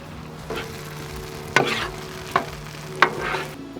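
Bacon and sausage sizzle on a Blackstone griddle in a soft, steady hiss, broken by three or four sharp scrapes and clacks from a spatula stirring the meat up close.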